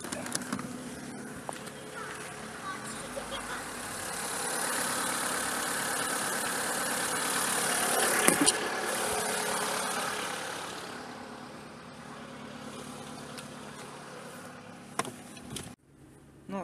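A car engine idles steadily after being jump-started from a flat battery, a continuous mid-pitched hum that swells slightly and then settles, with a few clicks and a sharp knock near the end.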